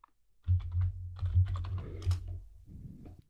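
Quick, close typing on a computer keyboard for about two seconds, a light run of soft clicks with a short pause, entering a command on an Ubuntu 22.04 machine.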